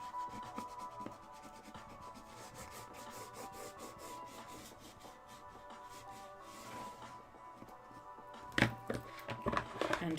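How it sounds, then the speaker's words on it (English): Journal pages in a handmade junk journal are burnished together with steady, close rubbing and scraping strokes that run continuously, ending in a few louder knocks and rustles. "I can stick something right across these pages if I burnish them."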